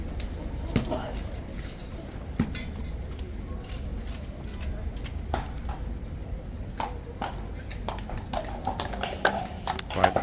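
Horse hooves clip-clop on hard ground, irregular close clacks scattered over a busy outdoor background with voices talking.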